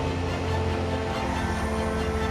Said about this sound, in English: 24 minutes after the Dreamliner was meant to leave, it's finally on its way.